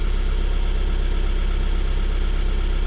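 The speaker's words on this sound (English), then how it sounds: "Right now the car is in idle" A 2013 Volkswagen Golf engine idles steadily, a low continuous rumble with an even hum and no other sounds throughout.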